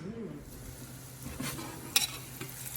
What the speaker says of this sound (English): Meanwhile, let's finish up these caramelized onions.